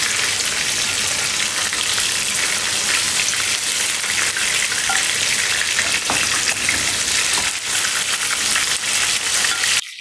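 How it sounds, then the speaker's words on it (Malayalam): Chicken pieces sizzle steadily in hot oil in a pan, a dense continuous frying hiss heard close up with a few faint stirring knocks, cutting off abruptly at the very end. "ചിക്കനെല്ലാം വറുത്തെടുത്തിട്ടുണ്ട്"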